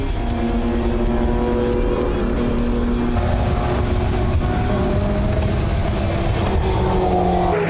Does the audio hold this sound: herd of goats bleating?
no